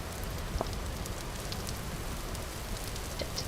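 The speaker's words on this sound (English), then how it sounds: "I wish it would stop raining." In the survival game Vintage Story, rain pours down as a continuous close hiss with a few brighter individual drop ticks, steady in level and free of speech.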